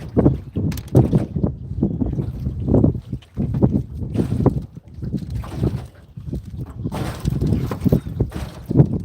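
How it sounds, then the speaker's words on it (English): Strong gusting wind buffets the microphone outdoors during a fishing trip, rising and falling in loud rumbling bursts with no talking. "the wind is crazy"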